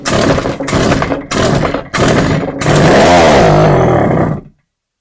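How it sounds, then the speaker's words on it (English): A small two-cycle engine primed with starter fluid: several short cranking pulls, then the engine catches and revs loudly for about two seconds before dying abruptly into silence. "Okay, the engine fired for a moment and then it immediately died."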